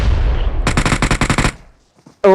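Gunfire in the mobile battle-royale game PUBG Mobile: a rapid automatic burst of about eight evenly spaced, loud shots, then a short quiet tail and a sudden loud sound at the very end.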